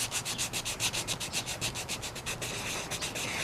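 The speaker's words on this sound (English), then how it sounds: "You make your sandpaper go over it," Sandpaper rubbed by hand over spackling on a composition doll, a quick steady back-and-forth scratching of about a dozen strokes, close and clear with no talk, settling into a smoother continuous rub toward the end.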